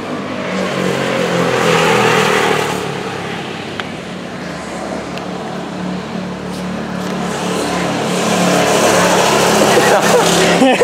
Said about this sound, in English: That thing has a 25cc lawnmower engine in it.